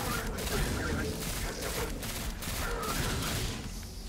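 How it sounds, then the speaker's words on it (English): A pulse rifle in Destiny 2 fires in quick, dense bursts of rapid shots, steady and moderately quiet, with no voices. "This pulse rifle feels alright for what I'm assuming is a fairly beginner pulse rifle"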